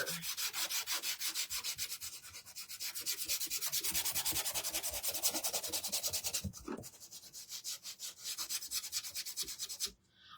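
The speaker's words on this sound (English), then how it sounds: "well, first of all, we're gonna sand before we do any of the little stippling things" Sandpaper rubs steadily over a wooden piece from a spring sheep and tulip basket craft kit, close and loud in long back-and-forth strokes with a brief pause near the end.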